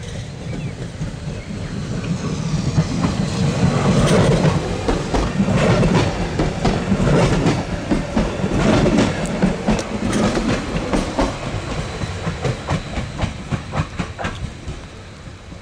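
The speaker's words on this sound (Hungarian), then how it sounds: "Jön Dunaharaszti felől a páros számú vonat, szóló flirtel." A Stadler FLIRT electric multiple unit running alone as a passenger train on a Hungarian line, a loud steady rumble with rhythmic wheel clicks over rail joints as it passes close by.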